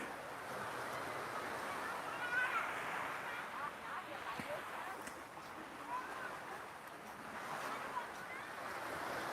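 Steady wash of surf on the beach at Hua Hin, Thailand, a continuous soft roar with gentle swells rising and falling, heard under light wind noise on the microphone.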